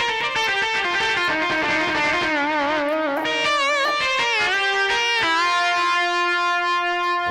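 Distortion effect preset number 5 on an effects unit: a loud, continuous sustained synth-like melody with wavering bent notes and dense, gritty harmonics, no voices.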